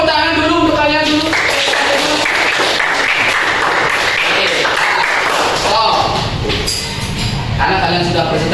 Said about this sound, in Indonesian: Oke, tepuk tangan dulu untuk kalian dulu.